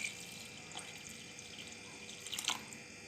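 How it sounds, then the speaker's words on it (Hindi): Water poured from a half jug into a cooking pot holding mango cubes for jam, a faint trickling and dripping with a brief louder splash near the end, no voices. "ये देखिए आपके सामने मैं पानी डाल रही हूँ।"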